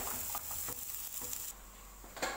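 Spices sizzle and patter softly in oil in a pan, a faint continuous frying hiss with occasional light stirring clicks, heard alone.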